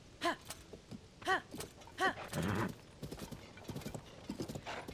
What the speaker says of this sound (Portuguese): O cavalo é muito lindo, ele é.